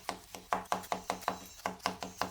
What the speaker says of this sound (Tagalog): tapos ihiwain lang natin ito ng maliliit katulad nito.